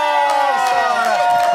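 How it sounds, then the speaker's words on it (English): Live studio crowd at the Xtra Factor greets X Factor runner-up Saara Aalto with loud cheering and shouting, overlapping voices whooping steadily with some clapping underneath. "Please make a massive round of applause for Saara Aalto!"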